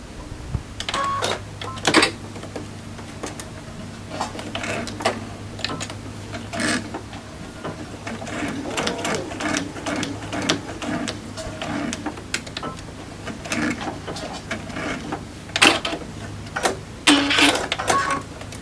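A sewing machine stitches a quilt seam in bursts of rapid mechanical clicking and whirring, starting and stopping across the stretch, close and moderately loud with a low motor hum underneath.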